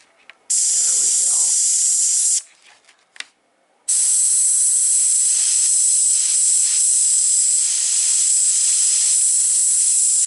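An airbrush sprays paint onto a 3D printed figure with a steady, close hiss that runs briefly, cuts out for about a second and a half, then resumes and holds for the rest of the stretch.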